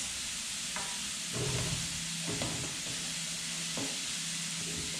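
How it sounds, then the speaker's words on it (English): Hakurei turnips sear in a hot pan, a steady close sizzle with a faint hum and intermittent stirring scrapes. "you just want us to cook it, or at least sear it long enough to get a nice little brown sear or char marks on your turnips"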